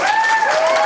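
Brief burst of audience applause at a jazz festival clinic session, a dense wash of clapping with a sustained tonal line running through it, loud and continuous.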